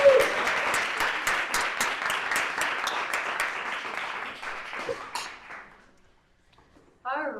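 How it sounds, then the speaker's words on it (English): Enthusiastic audience applause at a community grant pitch event, dense steady clapping for about five seconds that fades out, then a voice begins speaking. "let's give a huge round of applause."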